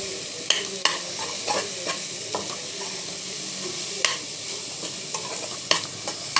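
A tempering for coconut chutney sizzles in hot oil, a steady close hiss broken by sharp scattered pops and crackles.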